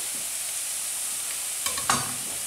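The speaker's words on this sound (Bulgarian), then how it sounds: "За аромат добавяме нарязаният наситно чесън" Finely chopped garlic sizzles steadily in a pan with hiss underneath, joined near the end by a couple of scraping stirs, for lenten cabbage rolls for Christmas Eve.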